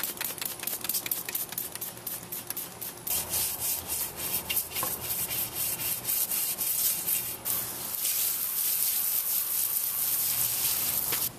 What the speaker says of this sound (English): I'm just going to use diluted Dawn to clean the inside of the wheel.